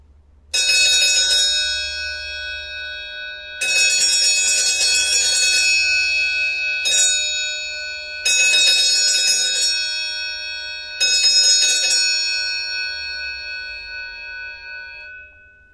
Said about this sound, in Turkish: taksi sahibi sevgili Ahmet Aktaş kardeşim bizden bir adet geliştirilmiş Vatikan çan siparişi verdi